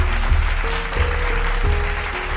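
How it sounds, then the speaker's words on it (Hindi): Audience applause at a Panchayati Raj training programme by the Department of Rural Development and Panchayat, Jammu and Kashmir: steady, loud clapping from a gathered crowd, continuous through the short stretch with a low hum beneath. "एक बार जोर से ताली तो बजा दीजिए।"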